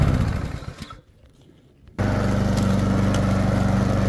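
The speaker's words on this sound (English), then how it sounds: "So just continue mowing around there, filling up the catcher with the leaves" A ride-on lawn mower runs steadily as it mows a wet lawn covered in leaves, its engine loud and close, dropping briefly before surging back into a constant droning hum.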